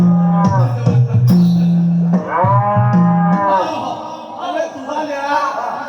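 A cow moos loudly and close several times in long, low calls, and a voice-like murmur follows.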